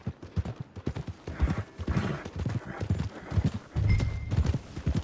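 Horse hooves clip-clop in a steady walking rhythm on hard ground in the video game Red Dead Redemption 2, close and clear, with a brief snort or whinny partway through.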